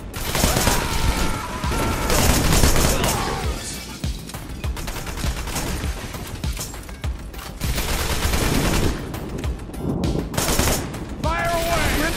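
Sustained gunfire rattles through a firefight in the slasher-shooter game Wanted: Dead, with rapid machine-gun bursts and heavy shots in waves over about twelve seconds, while voices shout commands in between.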